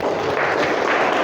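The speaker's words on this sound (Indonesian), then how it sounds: "Kita beri tepuk tangan untuk Mbak Niken sebagai perwakilan dari kelompok 3." A classroom of students applauds a group representative, dense steady clapping that stays close and fairly loud for about a second with no voices over it.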